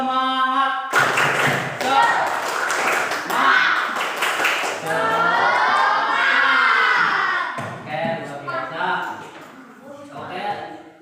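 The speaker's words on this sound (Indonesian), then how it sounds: "Tepuk semangat." Classroom of schoolchildren doing the tepuk semangat spirit clap, sharp rhythmic claps mixed with chanted voices and shouts, loud and close, ending in a livelier burst of chanting.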